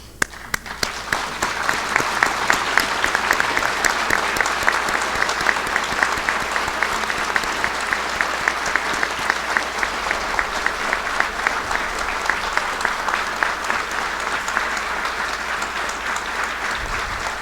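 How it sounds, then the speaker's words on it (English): A crowd at a Veterans Day ceremony gives Vietnam veterans a long round of applause, a dense, steady clapping that swells early and holds at an even level throughout. "please stand so we can recognize you with a round of applause"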